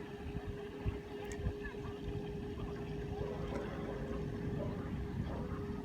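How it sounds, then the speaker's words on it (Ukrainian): A carp fishing bait boat powered by a Falcon 3542 motor cruises away over the water, giving a faint, steady motor hum with a constant whine, and light wind on the microphone. "Стартанули на круїзі, швидкість доволі достойна. Кораблик без мого керування рівненько пливе на віддалення."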